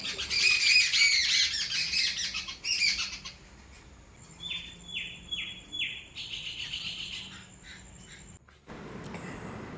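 Birds chirping and squawking in bursts of shrill, repeated calls, fairly close, with a quieter stretch of sharp chirps midway.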